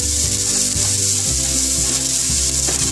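Onion frying in a pan with ginger and garlic for a Punjabi bottle gourd curry, a steady loud sizzle with occasional stirring scrapes, alongside low background music.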